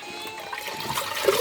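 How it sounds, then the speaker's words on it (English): Coconut water pours from a container into a cooking pot, making a soft, continuous trickle that stays close and fairly quiet, with no talking. "I will be pouring the coconut water inside this pot."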